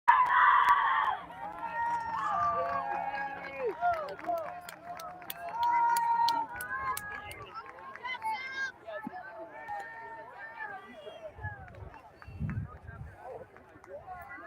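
A college sailing team gathers for a fired-up pump-up cheer before a semifinal race, voices shouting and whooping together in bursts, with lots of chatter mixed in and a few sharp thumps near the end.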